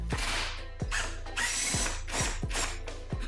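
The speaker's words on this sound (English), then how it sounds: "I'm just gonna do it on an impact." An impact wrench hammers at the 13 mm center support bearing bolts on an E39 M5, firing in five or six short, loud rattling bursts separated by brief pauses, close up and with no talk.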